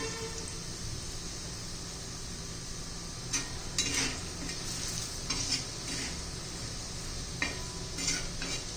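Garlic cloves frying in a pan with spice masala for a spicy garlic side dish, giving a steady close sizzle with scraping stirs of a spoon against the pan, with no voices.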